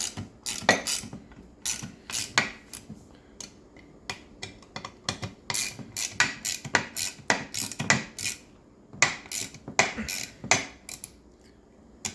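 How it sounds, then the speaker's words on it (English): Rapid bursts of close ratchet clicks from a small 4-inch-handle ratchet tightening crank bearings on a Husqvarna 55 chainsaw, coming in irregular quick runs with brief pauses, loud and alone. "This is like a 4-inch handle on this ratchet."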